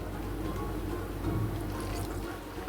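Water poured from a vessel onto steamed couscous in a Moroccan kitchen, a short continuous splashing trickle lasting a few seconds, close and moderately loud with background hum.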